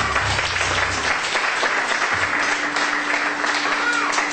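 A church congregation claps during a sermon, steady close applause throughout with a low hum entering partway and faint voices mixed in.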